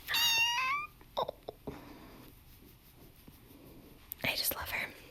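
A kitten gives a short high meow at the start and another brief cry near the end, close and fairly quiet, with soft whispering and small handling noises in between.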